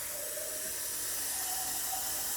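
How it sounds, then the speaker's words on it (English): Tap water runs straight from a faucet into a sink in a steady, bright hiss that continues unbroken and close by, with no talking over it. "get some tap water. I'm going to let it run for a little bit."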